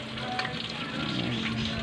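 Crispy chicken feet frying in hot oil, a steady dense sizzle and crackle that stays loud and close throughout without a break.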